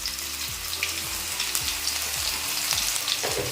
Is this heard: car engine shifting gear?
no